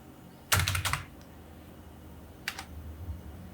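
An address being typed on a computer keyboard in Microsoft Word: a quick close burst of several keystrokes, a pause, then two more brief clicks in a quiet room.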